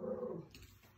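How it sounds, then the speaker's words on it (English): Household dogs bark and growl nearby in a short burst, the sound loud at first and then tapering off. "Sorry, the dogs are barking."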